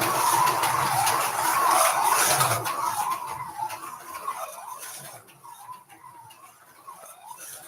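A small 1/24 scale Fiat 500 toy car whirring around a track, a high buzzing motor whine that is louder at first and then fades to a thinner hum.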